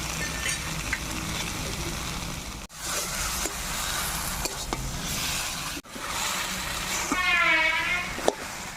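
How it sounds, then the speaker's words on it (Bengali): Chital fish heads going into a pan of taro leaves, with a steady broadband sizzle of frying and occasional stirring clinks, running continuously at moderate level with brief breaks. "কচুতে মাছের মাথাগুলো দিয়ে দিব।"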